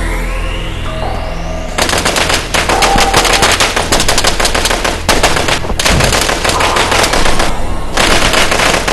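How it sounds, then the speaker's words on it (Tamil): Rapid automatic gunfire from soldiers shooting at fleeing people in a Tamil Eelam war film, loud sustained bursts of machine-gun fire that stutter on and off over several seconds, with no voices. "ராணுவத்தினரின் தாக்குதலுக்கு பயந்து ஓடிய மக்கள் மீது பயங்கரமாக துப்பாக்கி பிரயோகம் நடத்தினர்."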